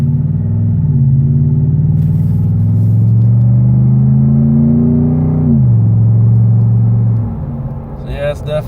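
A Ford F150 with a 5.0 V8 and Dynomax VT muffler accelerates close by, its deep exhaust drone rising steadily in pitch, dipping briefly, then climbing again before easing off near the end.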